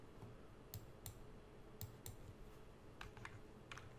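Keystrokes on a computer keyboard as numeric values are entered into 3D rendering software, scattered sharp clicks in small clusters over a steady low background hum, fairly faint and close.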